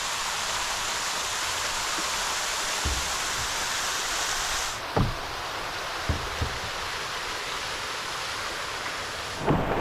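Heavy rain pours steadily over a river in the Ozark mountains along the Buffalo River, a dense continuous hiss with waterfalls running off the slopes, broken by a few soft low thumps and rumbles.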